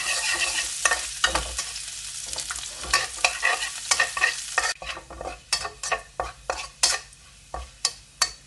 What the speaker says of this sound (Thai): น้ำมันเริ่มร้อนใส่กระเทียมลงไปเจียวก่อนค่ะ